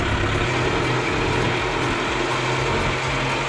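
A Kubota 4x4 tractor engine runs steadily in the field, a loud, continuous mechanical drone with rattling gear noise and no pauses.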